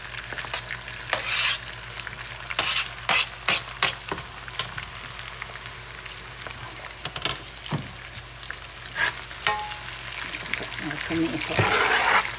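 Scallion and garlic sizzle steadily in a hot pan for a Jamaican salt mackerel dish, with a spoon scraping and stirring in bursts over the constant frying hiss.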